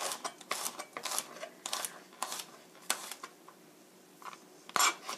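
A knife minces sliced garlic cloves on a cutting board in quick, close, uneven bursts of chopping taps, with brief pauses between.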